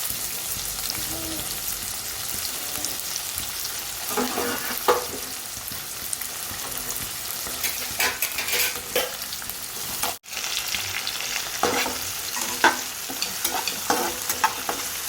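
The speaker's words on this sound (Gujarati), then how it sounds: "જીરું તતરી જાય એટલે આદુ, મરચાં અને લસણ, સાથે એક નાનો કાંદો, ડુંગળી સુધારી છે." Ginger, green chili, garlic and chopped onion frying in oil with cumin seeds in a pan, a soft continuous sizzle broken by occasional spoon stirs and scraping clatters, moderately quiet and steady.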